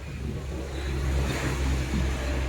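Sea waves at a beach after a storm, a steady close roar of surf mixed with wind noise on the microphone, loud and continuous with no talk.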